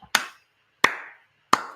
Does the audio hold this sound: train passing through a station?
no